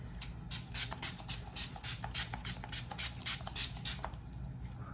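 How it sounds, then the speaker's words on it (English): A rapid series of short, hissing spritzes from a setting spray bottle misted onto a face, pumped in quick bursts one after another, close up and fairly quiet. "spray our face with setting spray"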